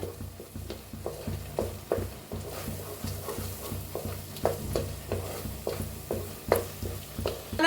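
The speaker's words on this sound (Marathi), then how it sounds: "मसाला सगळा भाजून घेऊया" Spice masala roasting in oil for a spicy potato curry, a soft sizzle beneath repeated scraping and tapping of a spoon stirring against the pan in an uneven rhythm.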